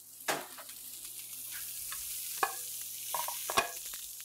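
Butter melting in a hot pan beside a beef filet with fresh rosemary, quiet sizzling broken by a few sharp pops and spatters, close and fairly faint, with no talking.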